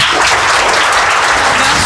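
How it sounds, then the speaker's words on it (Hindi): Audience applause at a Republic Day celebration honoring heroes, a dense, steady wash of many hands clapping that fills the whole stretch at full strength without letup. "एक बार जोरदार तालियां हो जाएं देवांशी के लिए।"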